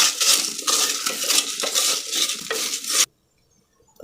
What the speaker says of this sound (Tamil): சீரகம், தனியா, மிளகு, வரமிளகாய் இதெல்லாம் போட்டு கொஞ்சம் வறுத்து எடுத்துக்கலாம்